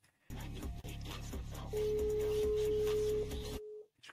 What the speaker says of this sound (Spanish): Que suena por ahí un teléfono.